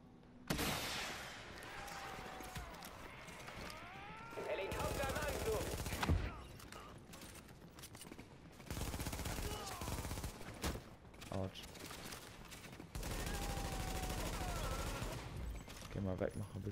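Bursts of rapid automatic gunfire from The Division come in several loud volleys separated by quieter gaps, with game effects and occasional voices underneath.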